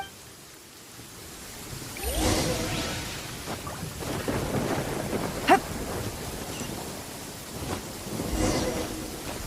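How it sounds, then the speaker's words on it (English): Thunderstorm in Genshin Impact with rain hissing steadily as thunder rolls through in several loud rumbles and one sharp crack, with no talking. "Uh-oh! Lightning storm!"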